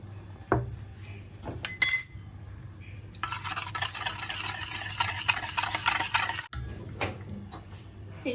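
A spoon stirs Amul milk powder into hot water, clinking against a metal pot in a steady scraping rhythm after a few sharp taps, close up, with no talk.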